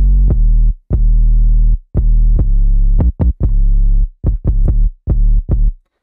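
Pluggnb beat 808 bass hits, deep booming sub notes in a bouncing rhythm with short gaps, some held long and others in quick clusters, loud and alone with no voice.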